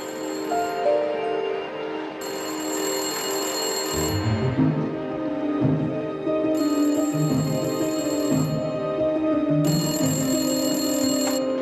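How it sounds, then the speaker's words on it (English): A telephone rings in repeated bursts, each a long bright electronic trill separated by short pauses, loud and close, with a steady tonal hum running beneath. "Find the phone near the clock. It's going to ring in 30 seconds."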